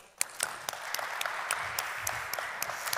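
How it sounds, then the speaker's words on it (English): A corporate conference audience applauds Mirko after a procurement talk, with sharp individual claps popping out over a steady, fairly close wash of clapping that starts abruptly and keeps going. "Let's give Mirko a very big round of applause."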